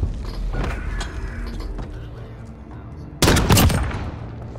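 Gunfire in the video game Modern Warfare, a dense burst of loud shots near the end following a stretch of busy, mixed in-game noise.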